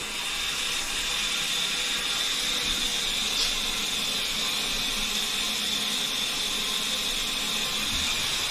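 Shower spraying water into a bathtub during a tub renovation, a steady, even hiss of falling water that runs unbroken at moderate level throughout with no talking.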